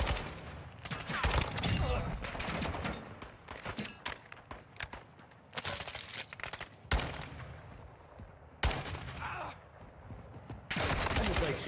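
Gunfire in Call of Duty Warzone 2 DMZ, repeated bursts and single sharp shots scattered irregularly, loud and close, with footsteps and other game noise between volleys.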